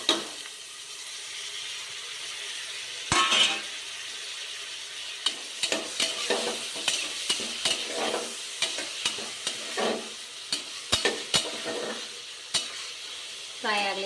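Chopped tomatoes frying in a pan with ground masala, a soft steady sizzle broken by repeated scraping and clinking strokes of a spoon stirring, fairly close.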